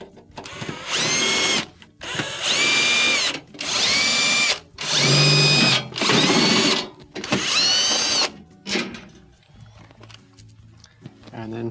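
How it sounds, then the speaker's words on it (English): A power drill backs screws out of the cover on a GE refrigerator, six loud bursts of whining motor, each a second or so long with short pauses between, then quieter handling at the end. "To remove the cover, remove all the screws that hold it in place."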